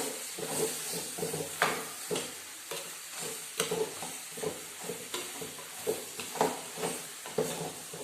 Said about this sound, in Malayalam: ഇനി ഇതിലേക്ക് ചിക്കൻ ഇട്ട് മിക്സ് ചെയ്ത് കൊടുക്കാം.